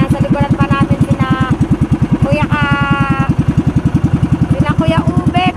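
A motorcycle engine chugs loudly and unevenly in a rapid steady pulse, then suddenly stalls, with people talking over it throughout.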